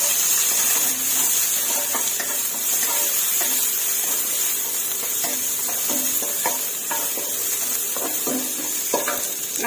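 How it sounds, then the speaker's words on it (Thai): Baby corn stir-frying in a pan for a vegetarian basil stir-fry, with a steady loud sizzle throughout and repeated clinking spatula strokes at an irregular rhythm, close up. "ข้าวโพดอ่อนผัดให้สุกกันค่ะ"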